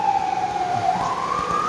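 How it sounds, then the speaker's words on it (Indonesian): A fire engine siren passing on a street, a loud sustained wailing tone that dips and then rises again over low traffic rumble. "pemadam kebakaran yang lewat"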